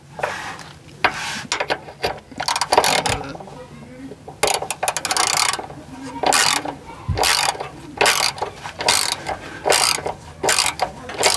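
Ratchet wrench working on the exhaust fasteners of a Citroën C3, loud close bursts of rapid clicking in uneven runs with short pauses between strokes, no voices heard.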